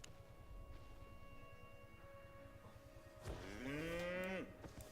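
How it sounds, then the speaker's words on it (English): A cow mount in the Albion Online video game moos once, a long drawn-out low moo with a falling tail, heard over a quiet game background hum. "I've got a fat cow with some baggage."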